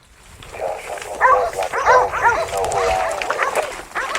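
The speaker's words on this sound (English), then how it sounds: "Frenetic barking, punctuated by an occasional yelp or abrupt silence, means that the hog could be aggressively charging and slashing." Hunting dogs bay at a hog in the South Texas brush with frenetic, overlapping barks, yips and whimpering yelps. The sound is continuous and moderately close.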